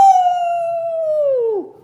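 A human voice imitates a dog's long, mournful howl, a single loud sustained note that holds steady then slides downward and fades at the end.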